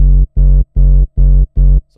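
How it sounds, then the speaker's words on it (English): A bass line run through distortion and a low pass filter thumps in five loud, even, sustained notes with short gaps, heavy and dark, with no voices over it. "This is now with distortion and a little bit of that low pass filter."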